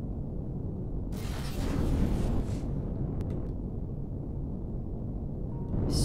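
A cannon turret is blown apart by gunfire in the space survival video game Empyrion Galactic Survival: a short burst of explosive noise with a crackling tail, over a steady low rumble and faint wind-like hiss.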